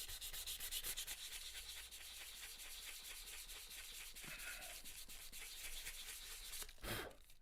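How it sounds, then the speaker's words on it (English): Light sanding of a fretwork wood piece: quick, steady back-and-forth rasping strokes close up, continuous and even throughout with no voices. "Just going to give this a light sand."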